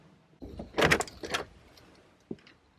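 A door is shut in a home basement, giving a soft thud and rattle around the middle, then a faint click afterward; quiet and fairly near.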